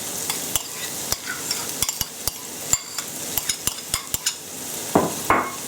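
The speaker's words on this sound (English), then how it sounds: "I'm just going to stir those round, get them mixed up" Chopped onion and carrot stirred in a sizzling pan, a soft constant fry under frequent sharp clicks and taps of a utensil against the pan, ending with a couple of louder scraping stirs.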